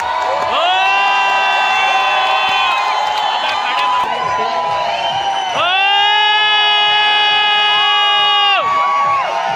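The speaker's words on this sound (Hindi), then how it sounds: "एक बार जोरदार तालियां" A large audience at a film festival in an auditorium cheers and whoops loudly, with excited shouts in dense layered bursts that swell again midway, filling the hall throughout.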